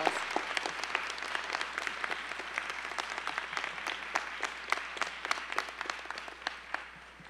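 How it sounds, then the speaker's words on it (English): Audience applause at a university fall matriculation convocation: sustained, dense clapping from a large crowd that holds steady for several seconds, then tapers off at the end. "Another round of applause."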